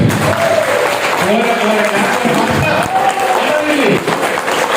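An audience at a trainers' workshop ice-breaking session claps for team scores, with sustained, dense applause from a crowd of about thirty, loud and close, with voices mixed in.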